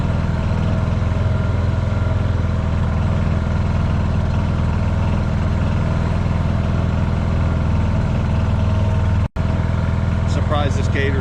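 An old John Deere Gator utility vehicle idles close by while pumping water from an old well, a steady low engine drone running throughout, with a brief dropout near the end.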